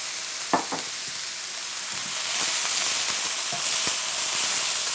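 Fajita vegetables sizzle in a hot pan, a steady frying hiss that grows louder midway, broken by scraping knocks of stirring at irregular moments, close up with no talking.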